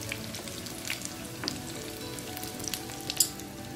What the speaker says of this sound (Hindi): हम इनको गोल्डन ब्राउन होने तक फ्राई करेंगे।